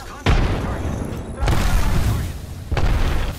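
Heavy gunshots in Apex Legends come as three booming, widely spaced blasts, loud and close over a steady rumble of game noise.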